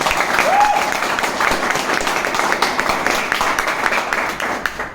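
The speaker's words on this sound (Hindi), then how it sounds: "तो एक बार जबरदस्त ताली आप अपने लिए बजा लें" An audience at a leadership training session applauds with steady, dense clapping that fills the room. The applause holds at an even level for several seconds.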